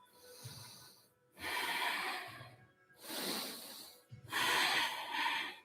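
Breath of fire yoga breathing comes in rapid, forceful nasal snorts, arriving in four bursts separated by brief pauses, close and loud with no talk.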